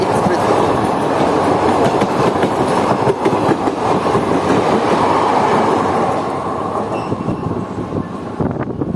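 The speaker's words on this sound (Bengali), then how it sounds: "আমাদের ট্রেনের সঙ্গে দেখা হয়ে গেল হাওড়া থেকে সাহেবগঞ্জ ইন্টারসিটি এক্সপ্রেস" Riding aboard the Kaviguru Express as the Howrah–Sahebganj Intercity Express passes, a loud continuous rail roar and rhythmic wheel clatter fill the scene, easing slightly toward the end.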